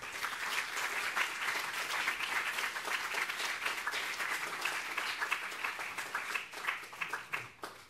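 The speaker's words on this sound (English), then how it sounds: "Give her a warm applause" Warm applause from an evening audience welcoming a speaker to the stage, many hands clapping steadily for several seconds, dense at first and thinning toward the end.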